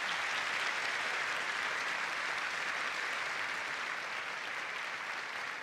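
A theatre audience at a live televised panel discussion in Her Majesty's Theatre, Adelaide, applauds with dense, steady clapping that stays loud and even throughout, tapering only slightly at the end.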